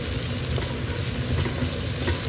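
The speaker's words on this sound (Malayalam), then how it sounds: "നല്ലപോലെ മിക്സ് ചെയ്ത് കൊടുക്കാം." Potato fry sizzles steadily in a pan as it is stirred, giving a close, continuous hiss with soft crackles and no talking.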